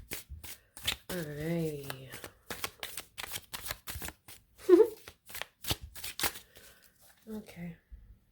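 A tarot deck, several decks' worth, shuffled by hand in repeated quick riffling bursts, close and fairly quiet, with a brief spoken word near the end.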